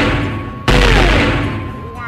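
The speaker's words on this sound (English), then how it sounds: "Was that a gun?" A movie gunshot effect: one sudden loud bang that bursts in partway through and rings out in a long, fading rumble, with faint voices under it.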